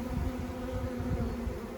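A swarm of bees buzzes inside a log hive, a dense, steady drone that holds close and unbroken throughout with no voices.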